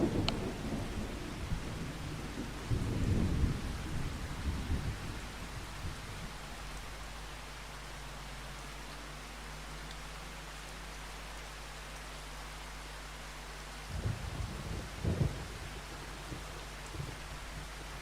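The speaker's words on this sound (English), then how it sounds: "No rush because it's raining." Steady rain hisses in Farming Simulator 25 while deep thunder rumbles roll in twice, first near the start and again toward the end, over a constant low drone.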